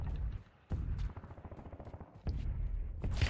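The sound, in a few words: gunfire in Warzone video game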